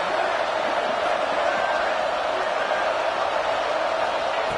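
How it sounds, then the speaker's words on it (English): A stadium crowd in a football video game roars as a dense, steady wash of cheering, with commentary talking over it. "Listen to the crowd energy here in the early going."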